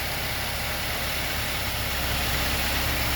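A new truck's warmed-up engine idles with a steady, smooth low rumble and a constant hiss, even and close throughout with no revving.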